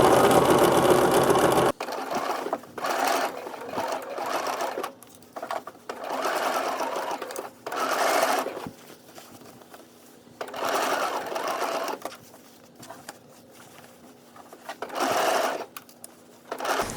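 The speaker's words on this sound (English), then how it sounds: "I'm serging off just a little bit of that seam allowance so it's not so bulky underneath the arm." A serger trims the seam allowance on a cotton wrap dress, whirring in several short bursts of steady buzzing separated by pauses, close and clear.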